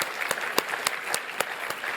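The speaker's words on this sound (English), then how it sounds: "So please join me in giving them a round of applause." An audience at an Economic Club of Canada event in Ottawa applauds an event partner. The steady clapping fills the room with a few sharper individual claps standing out, and no one speaks over it.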